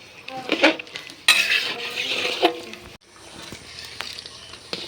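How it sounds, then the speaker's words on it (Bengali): Chicken kosha, a Bengali chicken curry, being stirred in a pot, with close metallic scraping and clinking of a spoon against the pot over a soft sizzle, in a couple of bursts. "এবার মাংসটা ভালো করে নাড়াচাড়া করে আমি এটা ফুটতে দেবো।"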